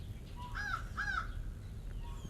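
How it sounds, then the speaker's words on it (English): Two crows caw overhead outdoors, two clear harsh calls in quick succession, moderately loud over steady background rumble. "the birds are even flying over at this point"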